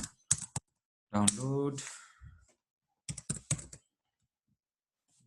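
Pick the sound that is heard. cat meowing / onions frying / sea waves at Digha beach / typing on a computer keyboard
typing on a computer keyboard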